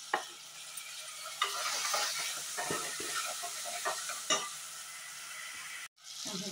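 Tomatoes added to ginger and garlic sizzle steadily in a hot pan for a macaroni dish, with repeated scraping stirs cutting through the close, continuous hiss.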